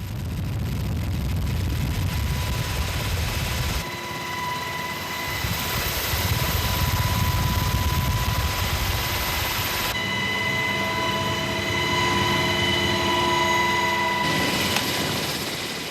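Inside an army medical helicopter flying a patient to a helipad near a hospital, a steady engine and rotor drone with high whining tones that holds throughout, shifting in character a few times, with no voices.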